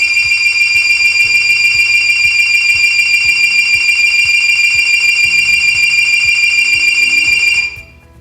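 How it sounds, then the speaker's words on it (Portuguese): A LEDTime Sports X3 digital alarm clock goes off with a loud, piercing, steady electronic beep held for several seconds, then cut off abruptly. "o despertador vai despertar conforme configurado"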